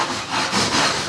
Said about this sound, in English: then we get a chugging train